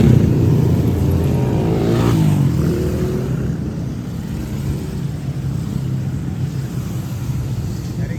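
Motorbikes and scooters pass along a busy Kuala Lumpur street at night during Ramadan, their engines a continuous loud rumble that swells as one goes by and then settles into a steady wash of traffic.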